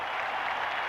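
A football stadium crowd roars in a steady wash of distant cheering during a 1991 Redskins versus Bears game, continuous and unbroken with no voice on top.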